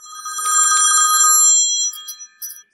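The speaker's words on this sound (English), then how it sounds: "we get another phone call from the Hood, right? Which was a phone call." A telephone bell rings in a TV drama scene where a masked caller phones in, a bright trilling ring held for almost two seconds, then a few shorter bursts, loud and close with no talking.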